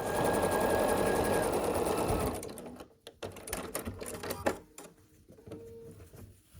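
A sewing machine stitches the final two seams of a scrappy sampler quilt block, a steady loud whirring run for about two seconds, then stopping and giving way to quieter fabric handling and scattered small clicks.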